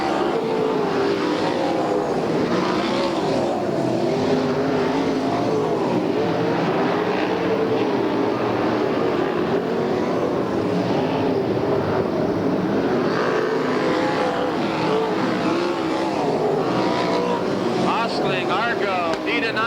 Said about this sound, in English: Scotty Burns running fourth on the bubble with the 98 car bearing down on his backside